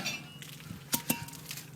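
A brake rotor is fitted back onto the front hub of a 2004 Chevy Avalanche, giving a couple of sharp metallic clinks and light scraping taps, faint and close, with no talking.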